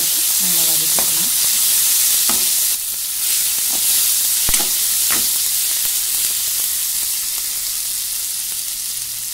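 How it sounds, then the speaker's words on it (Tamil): Tomatoes and radish sautéing in a pan for radish sambar, a steady hissing sizzle with occasional clinks and scrapes of a stirring spoon against the pan, with no one speaking. "நல்லா சேர்த்து தக்காளி வதங்கினா நம்ம முள்ளங்கி சேர்த்து நல்லா வதக்கிக்கலாம்."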